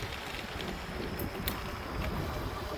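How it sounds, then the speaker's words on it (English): Strong wind on a swampy Minnesota trail, buffeting the microphone with a continuous rough roar and a couple of brief gusty bursts, no voices. "Really windy."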